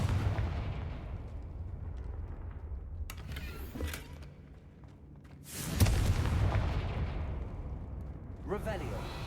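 Confringo fire spell blasts in the Hogwarts Legacy video game, with deep booming explosions and rumbling bursts, two strong blasts standing out midway and near the end over continuous low game rumble.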